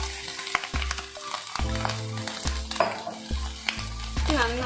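Fried rice sizzles in a hot pan while being stirred and tossed, with repeated scraping strokes and clanks of the spatula over a continuous frying hiss, nearby and fairly loud.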